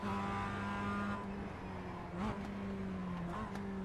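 Mazda MX5 race car lapping the Charlotte Roval in a racing simulator, a steady in-car engine drone with shifting pitch and brief gearchange blips, continuous and even in level.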